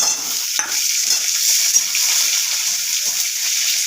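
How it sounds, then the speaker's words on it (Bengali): Chopped onions fry in hot oil with cumin and chilli, a dense, close, continuous sizzle with faint stirring movements underneath and no talking. "চলো পেঁয়াজটা একটু ভাজা হোক, ততক্ষণ অপেক্ষা করি।"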